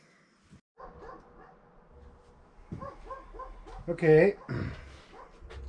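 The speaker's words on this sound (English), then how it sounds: "Neighbor dogs are barking now." Neighbor dogs barking outdoors near a 1975 Briggs and Stratton 8hp engine being repaired: a run of repeated barks and yips, moderately close, swelling into a louder burst, with a brief word of speech.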